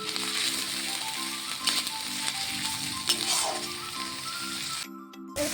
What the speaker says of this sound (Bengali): জিরে বাটা দিয়ে মশলাটাকে ভালো করে ভেজে নেব।